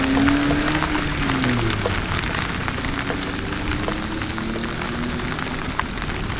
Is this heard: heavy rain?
yes